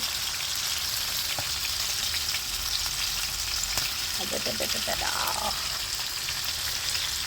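Crispy chicken fries in a pan with a steady, close hiss of hot oil and a brief cluster of light clinks midway through.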